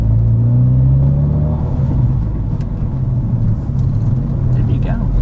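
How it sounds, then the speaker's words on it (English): Car engine of a manual-transmission car rumbling and revving steadily as a learner shifts into second gear, heard from inside the cabin with a continuous loud drone and shifting pitch. "Now I'm gonna try and shift into second."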